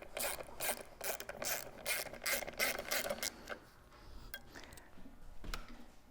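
A ratchet tightening a cylinder head stud on a Toyota 1FZ-FE engine from an 80 Series, a close, quiet run of rhythmic clicking strokes that eases into softer, sparser ticks near the end.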